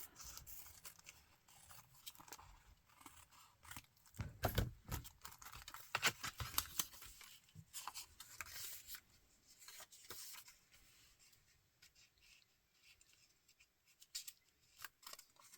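Scissors trimming a junk mail envelope, quiet close snips and paper rustles scattered irregularly, with a louder cluster of cuts in the middle and faint handling noise between.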